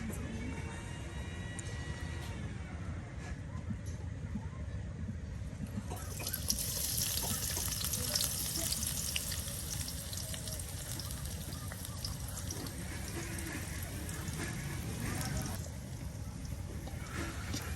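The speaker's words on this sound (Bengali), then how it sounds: "তেলটা সুন্দর করে গরম করে তার সাথে কিছু পরিমাণে পেঁয়াজ কুচি, মরিচ কুচি সব একসাথে দিয়ে দেওয়া হলো।" Chopped onion and chili fry in hot oil over a clay stove in a village kitchen, a continuous crackling sizzle that swells louder midway and then settles, steady and close.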